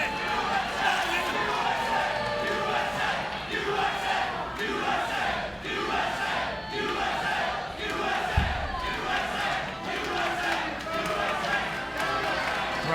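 Wrestling arena crowd in Louisville, Kentucky chants in loud, rhythmic waves throughout, with voices roaring together and a single thud partway through.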